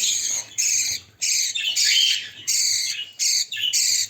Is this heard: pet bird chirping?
yes